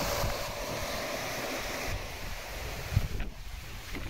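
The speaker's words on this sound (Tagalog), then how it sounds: "Kasi mahangin." Sea waves wash steadily against a breezy beach while gusty wind buffets the microphone, a constant broadband roar with a few low thumps near the end; no one speaks.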